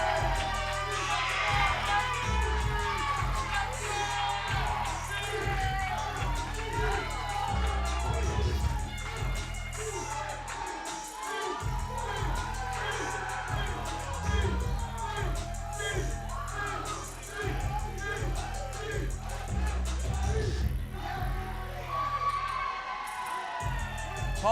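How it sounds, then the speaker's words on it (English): Wrestling crowd at a Paulsboro championship main event cheering and roaring for the challenger, a dense steady wall of crowd noise with pumping bass music and an announcer's voice over it throughout. "Paulsboro crowd is fired up for the challenger"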